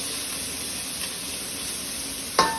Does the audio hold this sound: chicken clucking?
no